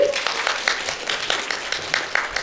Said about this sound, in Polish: Ogromne brawa dla tej pani